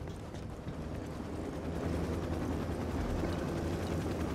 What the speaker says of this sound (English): Apache's targeting us.